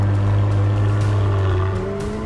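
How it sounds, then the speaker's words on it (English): The V8 exhaust of a McLaren W1 hypercar roars steadily and loudly, close by, with a rising rumbling pitch and faint crackles, no voices. "plus the soundtrack of the exhaust"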